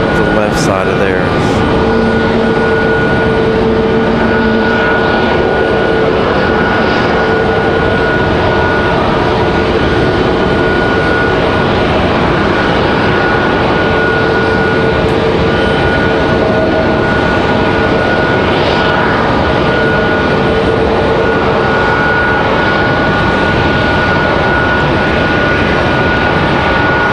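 An airplane approaches to land at Raleigh Durham International Airport in a crosswind, a loud, continuous engine roar with steady whining tones that lasts throughout, while people talk over it.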